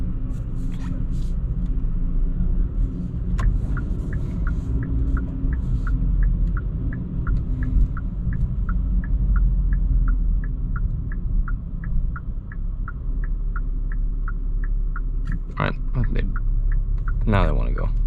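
Steady low rumble and hum of road noise inside a 2022 Hyundai Santa Cruz pickup on the move, joined by a run of regular soft ticking like a turn signal and a few brief electronic chirps near the end.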